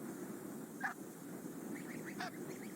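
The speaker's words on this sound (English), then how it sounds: "The anxious calls of the geese and their unusual activity brings the predators gliding in." Geese on a Greenland cliff give a few anxious honking calls, brief and moderately distant, over a steady windy background hiss.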